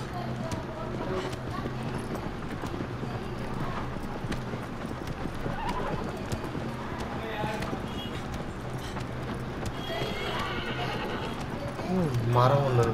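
Horse hooves clip-clopping with a neigh in Shadow of the Colossus Remastered on PS4, steady through the clip and partly under game sounds and talk, with a louder burst near the end.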